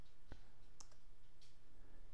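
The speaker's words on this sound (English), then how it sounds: "I know what I want, so I'm clicking on search" A few soft, quiet clicks of a computer mouse used for a website search, isolated taps spaced apart over a faint background hum.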